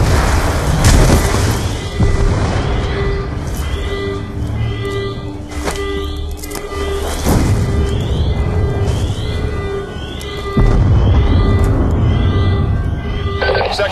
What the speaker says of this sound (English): We're monitoring multiple explosions across the facility.